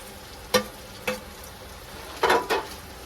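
Potatoes for vada pav stirred in a frying pan: a steady background sizzle broken by four sharp scraping stirs, close and clear, with no talking.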